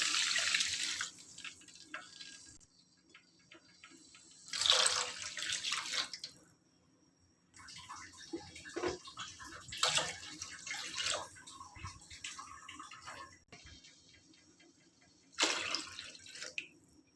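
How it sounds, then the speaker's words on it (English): Water poured into a cooking pan in several bursts, splashing and running close by, with quieter gaps between pours. "Add 4 glasses of water."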